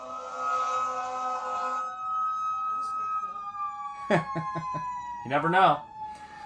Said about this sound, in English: Listen, folks, the sirens.